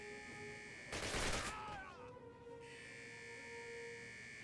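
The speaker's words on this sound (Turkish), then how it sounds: "Aha alarm çaldı yandık." A steady electronic alarm tone sounds through a Call of Duty video game scene, briefly drowned by a loud burst of gunfire and an explosion before it carries on alone.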